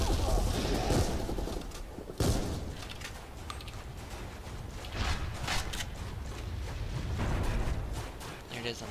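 STG-44 rifle gunfire in the zombie shooter Zombies Monsters Robots rings out in irregular bursts of sharp shots and impacts throughout, under and between stretches of talk.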